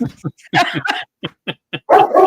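A dog barks in a short burst of sharp, loud woofs and yips, close to the microphone, with several quick separate barks.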